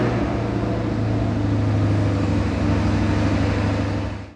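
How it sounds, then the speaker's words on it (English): A 2022 Chevrolet C8 Corvette 3LT sports car idles with a steady, loud, deep engine drone and a strong low hum throughout. It cuts off abruptly at the very end. "let's go ahead and start it up. We'll give you guys a quick sound of how the car sounds when started."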